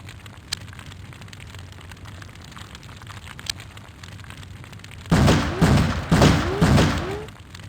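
Soldiers open fire in the video game X-Com Apocalypse, a sudden cluster of several loud, rapid bursts of gunfire near the end after a quiet stretch with faint ticks.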